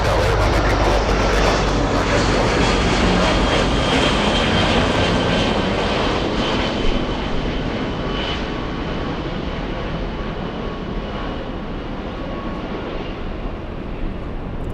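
The engines of a Boeing 757 jet airliner at LAX airport roar loud and steady with a broad rushing whine, fading slightly as the aircraft moves on.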